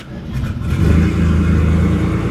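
A RWB Porsche engine cranks and catches within the first half second, then settles into a loud, close, steady running rumble.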